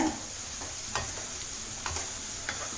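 Sliced bitter gourd with sesame seeds frying in a pan, with a soft steady sizzle and a few scattered scraping stirs of the spoon across the pan, quiet and close.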